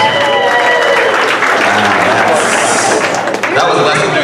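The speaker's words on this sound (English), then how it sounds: "Married couples, round of applause." Audience at a comedy show held as a fire department fundraiser in Sergeantsville claps and cheers for the married couples in the room, a dense, steady wave of applause with some whoops mixed in.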